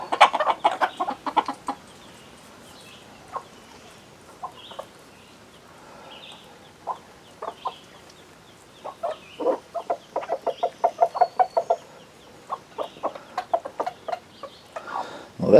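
Backyard chickens, including a mottled Cochin mix, cluck in scattered bursts and quick runs of calls, some close and some softer, with brief quiet gaps between.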